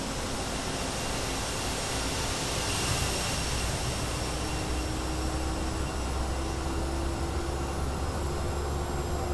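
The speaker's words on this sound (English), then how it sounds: "you can hear the whining and the humming of the APU coming on" A Boeing 737 auxiliary power unit spools up in Microsoft Flight Simulator 2020, giving a steady rising whine over a broad, constant hum that holds throughout.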